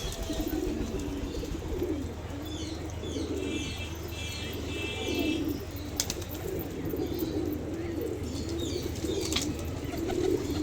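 Pigeons in a crowded loft coo repeatedly in low, rolling bursts, with occasional chirps and a brief wing flap, near and clear against a steady background hum and no voices.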